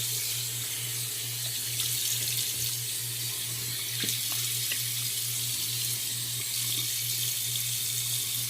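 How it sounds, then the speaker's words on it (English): Tap water runs steadily into a sink while a razor and face are rinsed during a shave with an Astra 901 razor, a continuous close splashing stream with a low hum underneath and no talking. "Let's rinse off the razor, and we're going to rinse off the face"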